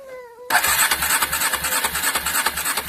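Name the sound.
petrol engine being started and revved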